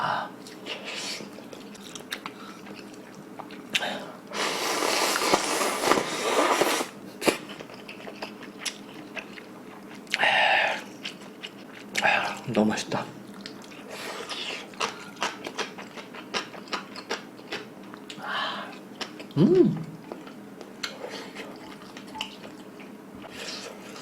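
Beef seaweed soup ramen is eaten up close, with bursts of slurping and wet chewing separated by quiet pauses and a few soft vocal sounds.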